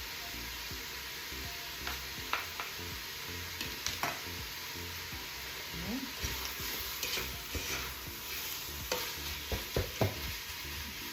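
Sausage cooks in a soup pot for corn on the cob soup, sizzling steadily while a spoon scrapes and stirs it in repeated close strokes.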